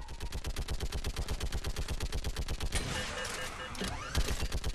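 Rapid, loud automatic gunfire from the video game Mass Effect 3, a steady machine-gun rattle of many shots that gives way to blasts and sweeping sci-fi effects near the end.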